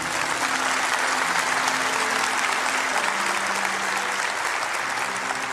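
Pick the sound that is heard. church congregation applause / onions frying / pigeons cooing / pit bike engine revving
church congregation applause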